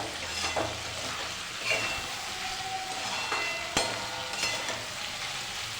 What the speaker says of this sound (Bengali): এবার দিয়ে দেবো আগে থাকতে ভেজে রাখা চিংড়ি মাছ আবারও নাড়া দেবো ভালো করে